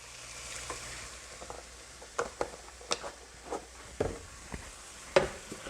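Stock poured into a pan of sizzling meat makes a soft, low sizzle, broken by scattered light clinks and scraping taps as it cooks.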